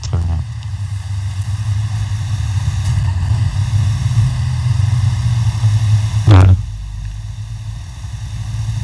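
Helicopter engine and rotor drone in GTA Online, a steady loud hum that runs throughout, broken by one sharp burst near the end.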